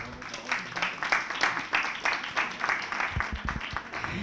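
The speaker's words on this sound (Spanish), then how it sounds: "Aplaudir si queréis. Aplaudir." Audience clapping after a lecture, a moderate, uneven patter of hands that stays steady for several seconds, with some talk mixed in.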